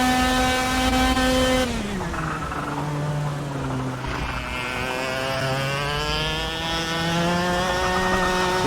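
A racing kart engine held at full throttle in a karting sim, a steady buzzing whine whose pitch dips and then climbs back up, loud and continuous with no talking.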